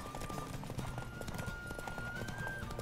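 Horse hooves clip-clopping at a steady galloping rhythm in The Witcher 3 video game, close and continuous, with a faint whinny and game music tones underneath.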